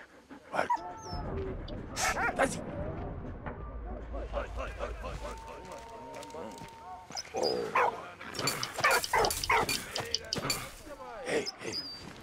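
A dog in the video game Valiant Hearts barks and whimpers in short yips and whines across the scene, mixed with game sounds and someone talking over it.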